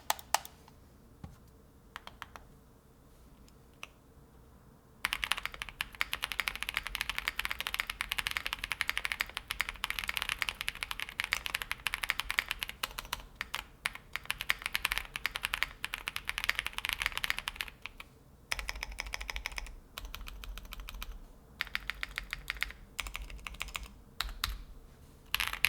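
Typing on a custom mechanical keyboard fitted with factory-lubed Bad Seed Tactiles R2 tactile switches, a dense run of close, crisp keystrokes with a few short pauses, alone without any talking.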